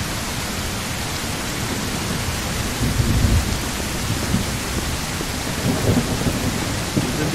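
Rain pours steadily in the video game Mist Survival while thunder rumbles low in bursts, a dense, loud hiss holding throughout with deeper swells around the middle and near the end.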